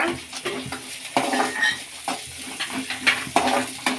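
Urad dal, coriander seeds and peanuts fry in oil in a pan for a radish chutney: a soft sizzle under repeated metallic clinks and scrapes of a spoon stirring against the pan.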